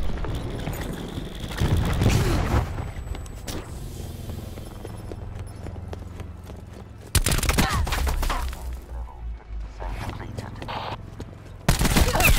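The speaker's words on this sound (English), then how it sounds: "Cluster grenade going out." Cluster grenade blasts in a video game, several loud broadband bursts hitting in separate waves among rumbling game ambience and mechanical noise, with a voice speaking in places.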